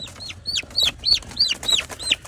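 American buff goose gosling hatched on a farm, giving a steady series of six or seven high, rising peeps in a regular rhythm, close and fairly loud, with no talk.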